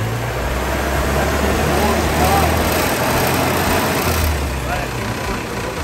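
A '55 car's engine held in reverse against the brake gives a steady, loud, unbroken drone with a low rumble that never rises or falls.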